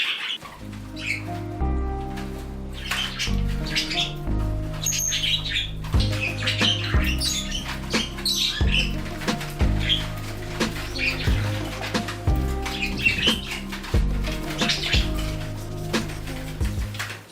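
Pet canaries chirp and trill at morning bath time, bright bird calls scattered over a droning indoor background with a steady harmonic hum, close and fairly loud.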